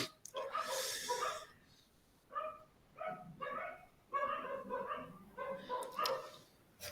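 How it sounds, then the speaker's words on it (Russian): Dogs bark at cats in several short, close bursts of yapping. The barks are spaced by pauses, with some whimpering and breathy sounds in between. "а собаки на них лают"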